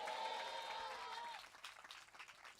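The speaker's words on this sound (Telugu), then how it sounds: "గట్టిగా చప్పట్లు కొట్టి స్తోత్రం చెప్పండి దేవునికి" Church congregation clapping and applauding during worship, a dense burst of handclaps with crowd noise for over a second, then thinning to scattered claps and murmurs.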